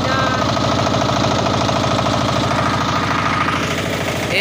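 A Daihou 33 hp diesel engine driving a generator hammers away in a fast, steady knocking rhythm, loud and close, unbroken for the whole stretch with no voices.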